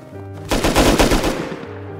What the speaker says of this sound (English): you hear him shooting right there